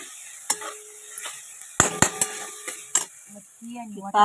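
Moth beans and peas being sautéed in a pan for a gravy give a soft sizzle broken by a few sharp metallic clinks and scrapes of a spoon on the pan, close by, with a voice starting at the very end.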